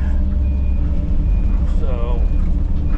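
A wheel loader sifting through burnt brush piles sounds its reversing alarm, a few short, high beeps over a heavy, low engine rumble.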